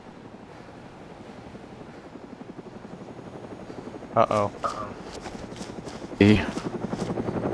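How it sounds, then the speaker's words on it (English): A helicopter flies over a remote wildlife camp, its rotor giving a fast steady chop that swells as it passes close overhead, while someone speaks briefly over it. "I hear the chopper again."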